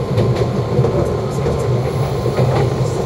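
A JR East Tokaido Line train bound for Ito rumbles steadily along the tracks, a loud continuous roar with faint rhythmic clatter, heard from inside a carriage.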